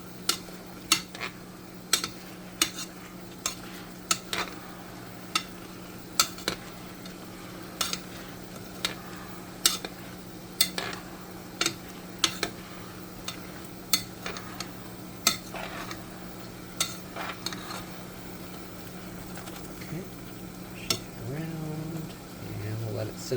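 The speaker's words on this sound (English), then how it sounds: "let's stir it around a bit more. You can see more liquid is coming out." Swift pork belly frying in a pan with a steady low sizzle, while a utensil scrapes and clinks against the pan in irregular strokes as it is stirred, close and fairly quiet, with occasional talking.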